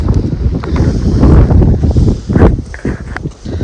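Strong gusty wind buffets the microphone in a cotton field, a loud continuous roar with rustling surges and a few soft thuds, no talk.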